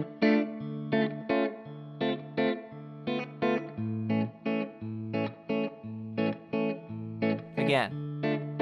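Electric guitar with effects plays the second ending of a song, a steady waltz of strummed chords moving down over sustained bass notes, close and clear with no voices.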